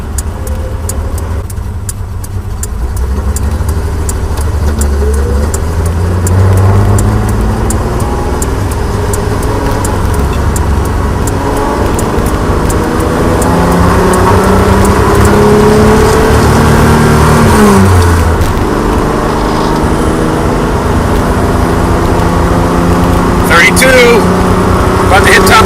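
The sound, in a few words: Datsun 240z engine accelerating in traffic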